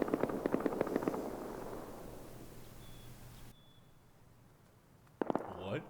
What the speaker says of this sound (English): Holy shit, those are AKs, bro.